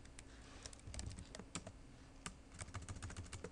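Keys clack on a computer keyboard in a quiet indoor room, with irregular clusters of close, crisp taps and brief pauses between bursts.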